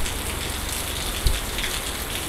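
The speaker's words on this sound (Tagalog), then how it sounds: "Umuulan." Steady rain falling during a storm with flooded streets, a constant broadband hiss of drops hitting surfaces, with one soft low thump partway through.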